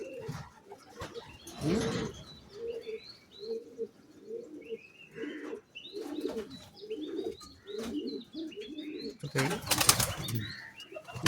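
A racing pigeon held in the hand beats its wings in two loud bursts of flapping, near the start and near the end, while repeated soft coos and chirps run throughout, close by.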